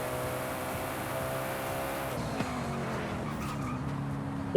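Cars drifting in the Forza Horizon 5 video game, a steady engine drone with tonal whine and a brief squeal burst, ending in a sudden loud tire screech.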